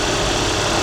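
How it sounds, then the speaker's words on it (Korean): Used car engine idling with the hood open during a cold-start check, a steady, close, continuous low rumble with constant vibration and no breaks. "냉간시에서 온간시로 바뀔 때까지의 엔진 소리를 잘 들어보셔야 합니다."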